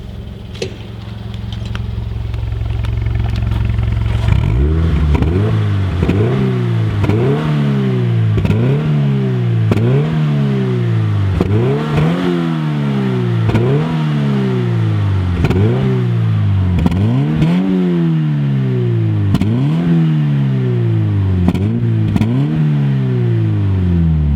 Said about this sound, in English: I'm gonna do some revs so that you can hear what it sounds like then.